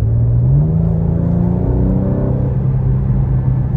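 A 2023 BMW M2 G87 engine holds revs as it drops down a gear, a loud, close interior rumble whose pitch climbs and then sustains steadily while the car cruises.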